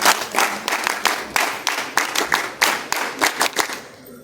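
A group of NCC cadets claps together in a steady, rhythmic beat at a camp closing ceremony, sharp unison claps repeating about every third of a second.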